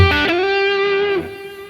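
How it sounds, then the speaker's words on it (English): A heavily distorted electric guitar plays a minor blues phrase: one loud sustained note with a strong, wide vibrato that rings and then cuts off sharply. "attack harder on the strings, put the volume on max, have maximum distortion, and the vibrato goes more intense"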